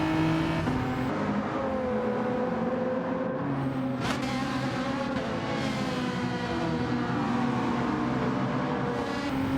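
Race cars lapping a track in Gran Turismo 7 during a daily online race, engines droning and shifting pitch as cars pass and accelerate, a sustained loud roar with rising and falling whines.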